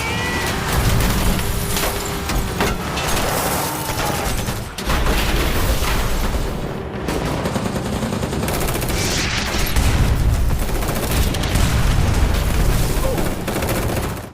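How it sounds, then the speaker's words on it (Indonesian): Heavy gunfire and explosions from a film scene in which a gunman is attacked by police and a SWAT team, with grenades involved; dense, continuous loud shooting and blasts fill the whole stretch, with a brief dip near the middle. "Di sini Rai pun tengah digempur habis-habisan oleh pihak kepolisian dan tim SWAT"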